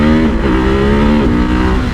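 A 2024 Ducati Hypermotard 698 Mono single-cylinder motorcycle pulls away in first gear, its loud, close engine note climbing steadily and dipping briefly between surges of throttle.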